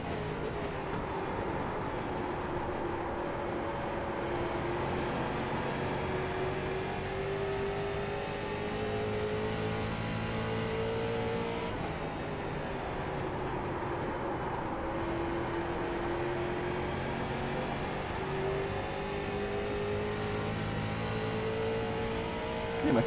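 A race car engine in the iRacing sim roars continuously, pitch climbing steadily then dropping sharply at a gear shift midway before climbing again, loud and close with no talk.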